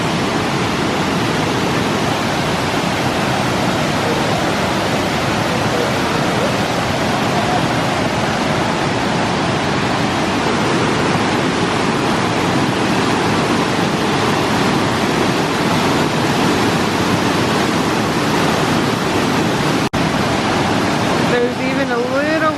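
Steady rushing water from a small roadside waterfall coming off a mountain near Wears Valley Road in Sevierville, Tennessee, a continuous broadband wash that stays constant and fairly loud throughout.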